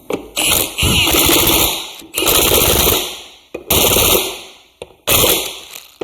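An impact wrench torques the wheel nuts on a Moto 4 ATV in four loud, close rattling bursts of rapid hammering, with short pauses between them.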